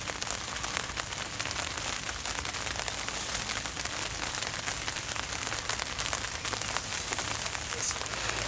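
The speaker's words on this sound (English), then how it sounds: "It's just not stopped raining." Steady rain falls on a misty spring morning by a fishing spot in Brigueuil, a dense, even hiss of drops continuing without pause and no voices.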